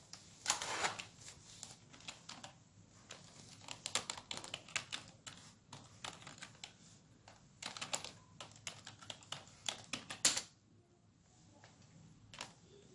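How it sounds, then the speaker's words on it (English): Typing on a computer keyboard, rapid bursts of close, light clicking keystrokes with short pauses, then a final keypress before it falls quiet. "when you type in the serial monitor and press enter"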